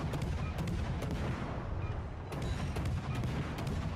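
Naval gunfire from the Akizuki destroyer in the World of Warships: Legends video game, a dense, continuous barrage of repeated booming shots with sharp cracks layered over low rumble, steady and loud throughout.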